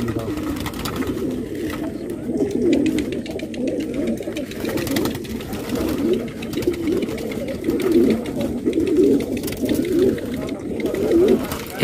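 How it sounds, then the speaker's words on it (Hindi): Many colored pigeons cooing steadily in a low, murmuring chorus outdoors, a continuous soft throaty burble with faint fluttering and background noise throughout. "कबूतरों को बंद करने लगे हैं जी, सीढ़ी लग गई है जी, कबूतर जा रहे हैं"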